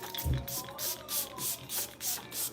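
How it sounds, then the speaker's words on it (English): Several short hissing bursts of Milk makeup setting spray misted onto a face, evenly spaced, close by, with a soft thud near the start. "We're spraying our face with the Milk makeup."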